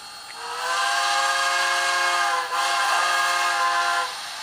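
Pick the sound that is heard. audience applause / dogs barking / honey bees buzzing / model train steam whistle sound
model train steam whistle sound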